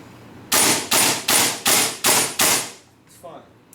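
A WE SCAR-H airsoft gas blowback rifle loaded with 6mm BBs and green gas fires six sharp semi-auto shots at a steady quick rhythm, loud and close, followed by a couple of faint clicks.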